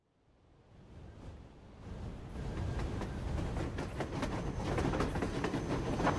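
A railway handcar in the video game Metro Exodus rolls along the tracks. Its rumbling clatter and rhythmic clicks build steadily from quiet to a loud, continuous roll.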